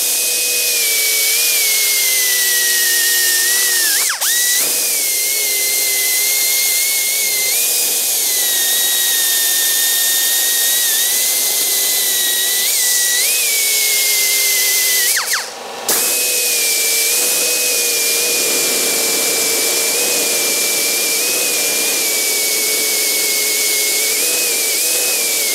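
Abrasive scrubby pad spun at high speed against a bearing race, a loud continuous high-pitched whine with slight pitch wobbles and a brief dropout midway, steady and close with no talking.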